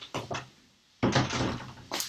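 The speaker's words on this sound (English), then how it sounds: "let me shut the door" An indoor door is shut, with a couple of quick handling knocks followed by a firm thud and rattle, close and fairly loud.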